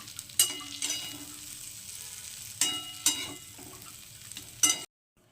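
Eggplant pieces frying in oil in a kadai over medium heat make a close crackling sizzle, with several sharp spatula scrapes and clatters before it cuts to silence.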